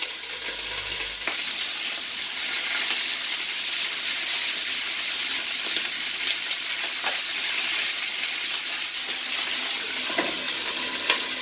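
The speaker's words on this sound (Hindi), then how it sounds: "पैन गर्म हो गया है तो हम इसे हल्का सा फ्राई करेंगे" Oxtail meat frying in oil in a hot frying pan gives a steady, loud, close sizzle and crackle that continues without a break, with faint pops scattered through it.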